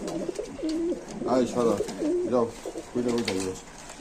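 Several pairs of Aseel pigeons coo in a cage at a pigeon market, with repeated close, throaty rolling coos in short bursts across the clip.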